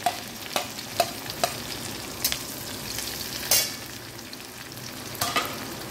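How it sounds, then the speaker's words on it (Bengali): Onions sizzling and frying in a pan for a simple Bengali chicken curry, a steady crackling hiss broken by a few sharp stirring scrapes, close and moderately loud with no voices. "ভালো করে পেঁয়াজটা যখন ভাজা হয়ে যাবে"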